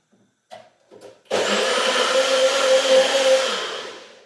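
A kitchen blender blitzes leftover peperonata with two large vine-ripe tomatoes into passata, a few soft knocks first, then a loud steady whirring roar for about three seconds that slowly winds down at the end.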